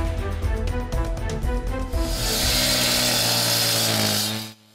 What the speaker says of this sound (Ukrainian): Як слайсер із салом, так болгарка справляється з бетоном